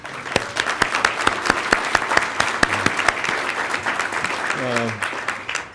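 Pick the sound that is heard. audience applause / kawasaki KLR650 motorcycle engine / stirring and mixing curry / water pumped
audience applause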